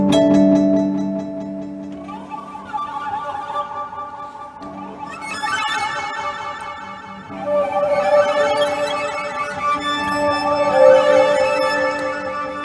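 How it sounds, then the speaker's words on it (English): A violin fed through an echo box digital delay pedal sustains a low drone while shimmering repeated notes pile up and smear into a dense, ringing wash that swells louder toward the end, with no talking. "The next one is an echo box, also called digital delay"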